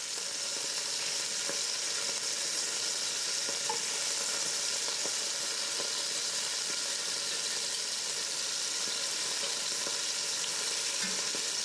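Beef chunks for stew sear in a hot pan with a loud, dense, continuous sizzle and occasional crackles and pops, close and steady with no talking.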